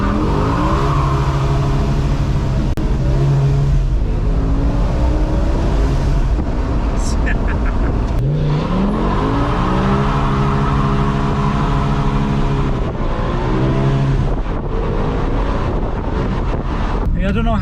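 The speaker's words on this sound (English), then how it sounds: "I'll just boot it now so you can actually see what it sounds like. Totally standard E60 M5." A stock BMW E60 M5 with standard exhaust accelerating hard, its engine note climbing repeatedly through gears in rising sweeps, loud and close from inside the car, with wind noise throughout and a voice talking over parts.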